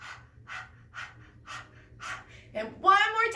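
Children imitating a panting puppy during preschool yoga, a series of short rhythmic breathy huffs about every half second, followed by a louder burst of voices and squealing near the end.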